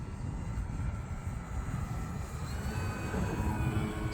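FMS Pitts RC model biplane flying in windy conditions, its engine a steady, fairly faint drone circling overhead with no voices.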